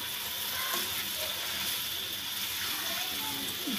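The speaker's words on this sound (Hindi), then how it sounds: "इसको थोड़ा सा भून लें इसके साथ लहसुन और प्याज के साथ" Chicken fried with garlic and onion gives a loud, steady hiss and bubbling sizzle close by, with faint stirring scrapes and no clear speech.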